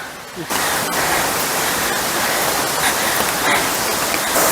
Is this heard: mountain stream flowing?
yes